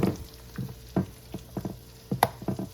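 French toast made with egg-dipped raisin bread fries in a pan, giving soft intermittent sizzles and pops at an irregular pace, close but fairly quiet, with no voices.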